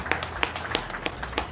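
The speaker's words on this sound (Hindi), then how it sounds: "जोरदार ताली कमलप्रीत के लिए" Scattered hand claps at an LIC Chandigarh division celebration of Babasaheb Ambedkar Jayanti honour Kamalpreet Singh, with several sharp, fairly distinct claps rising above a low murmur of background noise.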